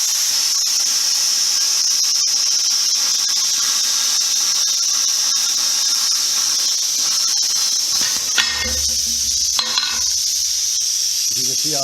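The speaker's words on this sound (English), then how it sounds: "I'm going to show you how a clean plasma cut will work" Plasma cutter with a fresh electrode and nozzle making a clean cut on metal, a loud continuous high-pitched hissing whine, ending with a few brief pops and a low hum.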